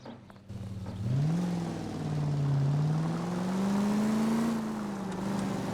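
A car engine in a video game drones steadily, pitch rising as it accelerates and then holding at a smooth cruising tone, close and continuous with no talk.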